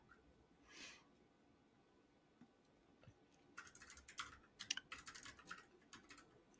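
Typing on a computer keyboard: quick, fairly faint bursts of clicking key taps fill the second half after a quiet start, with no one talking.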